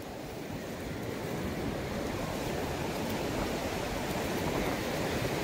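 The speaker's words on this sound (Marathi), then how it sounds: "आली लाट" Sea waves washing onto a beach in Goa, a steady, full roar of surf that stays close and constant throughout with wind noise mixed in and no talking.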